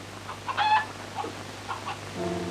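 Hens give a few scattered clucks somewhere off in a farm shed over a low steady hum, quiet and intermittent.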